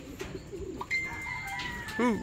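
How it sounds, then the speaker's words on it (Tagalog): A bird, likely a pigeon or dove, calls close by at an outdoor coop, giving a clear sustained whistle-like note then a short warbled burst near the end, over faint background murmur. "Oh, may ibon na naman dito."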